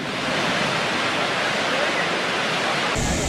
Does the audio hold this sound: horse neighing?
no